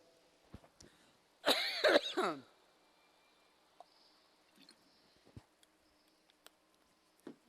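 A short burst of coughing, three or four harsh coughs in quick succession, stands out against near silence with faint clicks around it.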